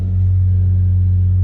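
A BMW E36 car engine running at a steady, loud idle close by, a deep continuous rumble with no change in pitch.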